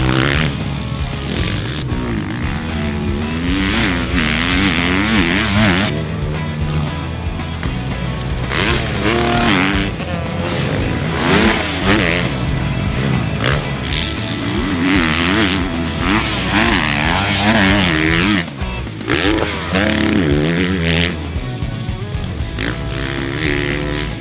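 A 2023 Husqvarna FC350 dirt bike being ridden hard, its four-stroke engine loud and continuous, revving up and down through gears and throttle changes for the whole stretch with no talk.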